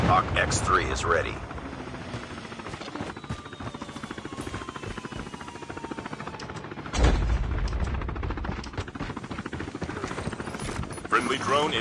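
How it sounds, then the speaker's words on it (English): The chopper gunner helicopter in the Call of Duty Mobile drop zone mode thumps steadily, with rapid bursts of gunfire and a heavy impact around the middle, and game voice lines over it. "Friendly deployed chopper gunner."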